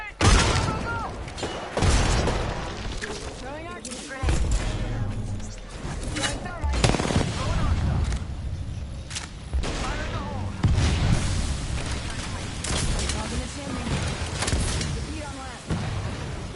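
Gunfire and grenade blasts in a PS4 shooter video game, with loud repeated volleys of shots and heavy booms recurring throughout, while game voices call out over the fighting.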